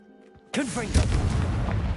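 A Confringo fire spell bursts in Hogwarts Legacy, a sudden loud whooshing blast with a deep rumble that lingers and crackles for a moment after a spoken word.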